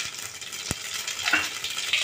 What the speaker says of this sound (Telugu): ఆయిల్ కాగిన తర్వాత బాగా కాగనిచ్చి తర్వాత ఆవాలు, మెంతులు, జీలకర్ర 3 కలిపినది ఈ ఆయిల్లో వేసేయాలండి